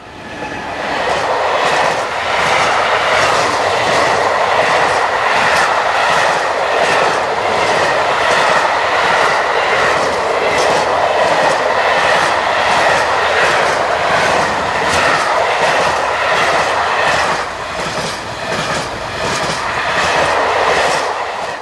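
Akiem-owned locomotive 37050, leased to CFL Cargo, hauls a southbound freight train from Oberhausen past the listener, a loud, steady rumble of rolling wagons with rhythmic clickety-clack from the wheels lasting throughout, no voices.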